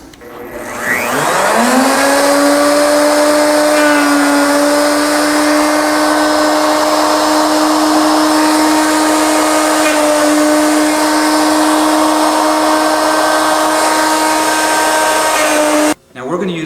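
Router cutting a groove in a wooden candlestick blank held on a lathe, a loud high-pitched motor whine spinning up quickly, then a steady sustained scream with a brief dip near the end.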